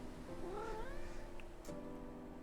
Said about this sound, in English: Well, hello, kitty.